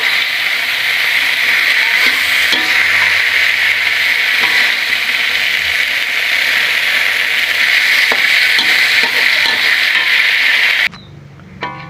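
Morning glory stir-fried over high heat in Thai red-fire style, a loud, continuous roaring sizzle close to the mic with scattered stirring knocks, dropping off abruptly near the end.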